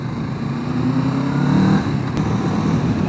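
A motorcycle rides along a slippery gravel country lane, its engine a steady close drone that swells slightly then eases, with faint crunching road noise beneath.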